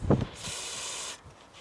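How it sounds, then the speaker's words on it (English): A lubricant spray can releases one steady hissing burst of about three quarters of a second onto a cloth for a caravan door seal, close and fairly loud, with a brief soft clunk just before it. "What I'm going to do is spray a bit onto the cloth"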